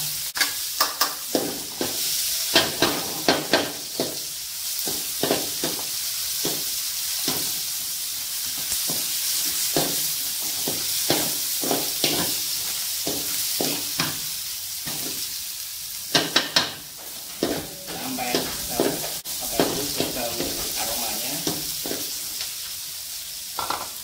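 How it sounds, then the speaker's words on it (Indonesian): Chili, shallots and garlic sautéing in a pan for beef tongseng give a continuous close sizzle and hiss, punctuated by repeated sharp scraping and stirring clatters spread across about twenty-four seconds, with no talking. "Nah, jadi cabai, bawang merah, bawang putih ditumis."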